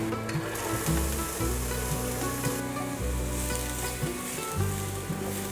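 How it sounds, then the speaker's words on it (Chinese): Minced celery and ginger stir-fry in a wok, a loud continuous sizzle close up with scraping and tossing of the spatula, no voices. "把芹菜末也炒香"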